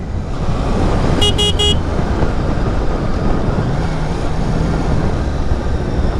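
A 600cc superbike ridden in fourth gear through city traffic gives a steady, loud engine and road drone throughout, with three quick horn beeps from nearby traffic near the start.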